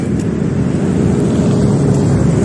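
Motorcycles roaring along a hiking trail on Monkey Hill, a steady loud engine rumble close by with no gaps, and no voices.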